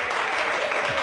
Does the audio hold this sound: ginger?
no